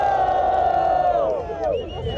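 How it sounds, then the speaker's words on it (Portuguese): A loud crowd at a rap battle semifinal roars and cheers continuously, with shouting voices blending into a sustained wall of noise that dips briefly near the end. "Barulho pras rimas do Caseiro e do César."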